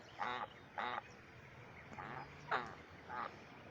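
A pet goose calls near a puddle with a series of five short honking calls spaced about half a second apart, close by and fairly loud over quiet outdoor background.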